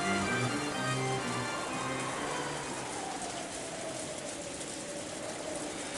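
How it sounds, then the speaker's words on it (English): Steady rain falls throughout a scene in a visual novel video game, a dense, even hiss of drops on surfaces with a faint low rumble underneath and no voices. "The rain was still awful"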